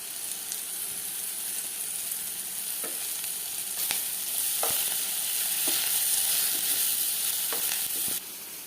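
Curry leaves and a bay leaf sizzle and crackle in hot oil for a tomato pulao, a steady bright hiss that swells in the middle, broken by a few faint clinks of a utensil, then drops abruptly near the end.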